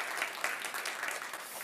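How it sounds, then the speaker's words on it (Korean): A church congregation at a Sunday worship service applauds in thanks, a soft, distant, continuous wash of many hands clapping. "감사의 박수 한번 드릴까요?"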